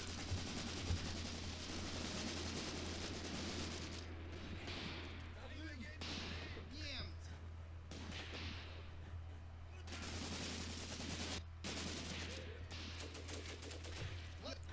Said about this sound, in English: See that machine gun ripping through